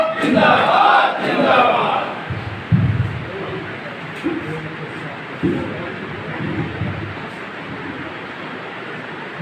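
A crowd of advocates roars a unity slogan in unison at a lawyers' gathering, loud and massed for about two seconds before a single voice takes over speaking.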